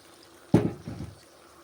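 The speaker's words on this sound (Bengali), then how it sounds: "মশলার গামলাটা একবারে ধুয়ে সামান্য একটু জল আছে ওইটা এর মধ্যে মশলা ধোয়া জলটা এর মধ্যে দিয়ে দিতে হবে" Water used to rinse the spice bowl is poured into a pot of mutton curry with new potatoes. It makes a single short, close splash that trails off into soft liquid sloshing.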